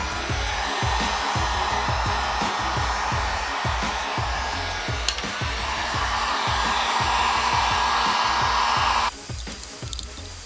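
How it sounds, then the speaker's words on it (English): A heat gun blows steadily while warming the edge of a Nissan 350z headlight, a loud continuous fan roar with a faint rhythmic ticking underneath that shifts in tone near the end. "I'm going to take a heat gun and I'm going to heat all around the edge of the headlight"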